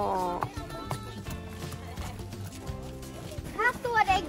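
Horses in a park in Slottsskogen, with hoof clops and a brief snort or whinny heard under children's and adults' voices talking close by.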